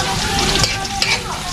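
Food sautés loudly in a hot pan for an adobo dish, a dense continuous sizzle and crackle up close with faint stirring clinks.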